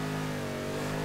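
A 1965 Pontiac GTO in a Forza racing game, its engine holding a steady loud drone in third gear at speed on back roads, continuous and unbroken, with no voices.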